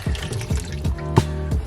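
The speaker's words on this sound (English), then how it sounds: "You fill it up just over with water" Water pouring and splashing into a cooking pot as it is filled for Portuguese caldo verde soup, a steady close run of liquid with a few brief surges and no voices.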